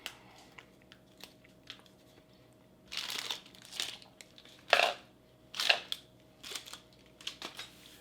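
Salted, unsweetened crackers from a French 24-hour combat ration being bitten and chewed, giving several sharp, close crunches in irregular bursts with quiet pauses between.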